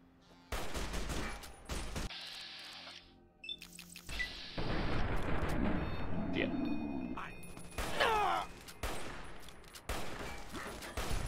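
Gunfire from a town attack in the Fallout: New California video game, with repeated bursts and loud cracks over a dense, continuous mix of game noise and impacts.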